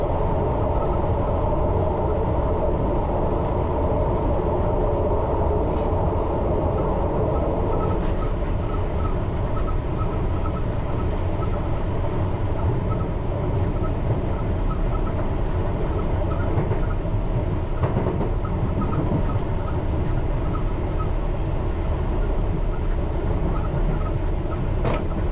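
A London Underground Piccadilly Line train running, a continuous loud rumble and roar of wheels on track with steady clatter throughout, no voices.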